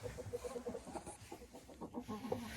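A broody hen clucks in a chicken coop, a run of soft, repeated low clucks and drawn-out murmuring notes, fairly close but quiet.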